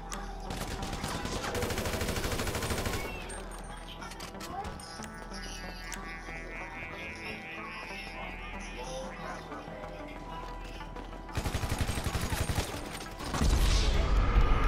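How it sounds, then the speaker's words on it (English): Carbine rifle fire in Grand Theft Auto V deathmatch, bursts of rapid shots at the start and near the end, with quieter game sounds and faint chatter in between. "I was using the carbon rifle."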